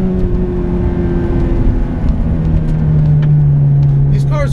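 A manual Ferrari F430 engine hums steadily and close, its pitch stepping as gears change and then settling lower, with faint noise over it throughout.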